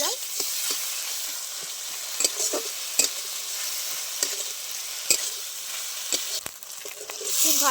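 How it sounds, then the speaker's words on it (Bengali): Ginger garlic paste frying with tomato in a pan, a continuous sizzle broken by repeated sharp scrapes and taps of a spatula as it is stirred. "খুব ভালো করে আদা রসুন বাটাটাও একইভাবে নেড়ে চেড়ে নেবো"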